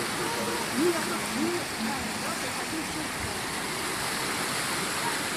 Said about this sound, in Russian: Ну вот теперь океан.